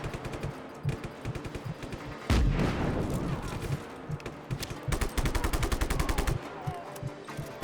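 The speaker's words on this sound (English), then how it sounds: "Those fuel tanks blow up nice, Rico." Repeated heavy explosions as fuel tanks blow up in the action video game Just Cause 3, a big loud boom near the start followed by dense rapid gunfire-like bursts and chained blasts, with a voice briefly talking over them.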